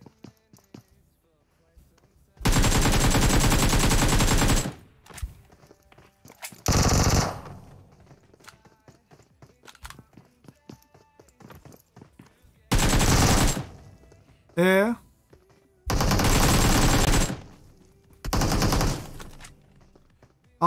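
Bursts of automatic gunfire in the mobile battle royale game PUBG Mobile, loud and close, arriving as five or six sustained volleys of a few seconds each separated by quiet gaps, with a player's voice talking in between.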